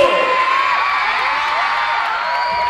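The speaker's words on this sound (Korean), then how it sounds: "자 이제 박수 주세요" A concert audience at a photo session cheers and whoops loudly and continuously, with crowd shouts and yells layered together throughout.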